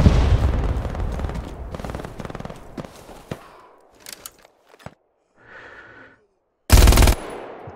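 World War II machine guns such as the MG34, MG42 and M1919 Browning fire in the video game Hell Let Loose, sustained rapid bursts up close, then scattered distant shots and a final loud burst.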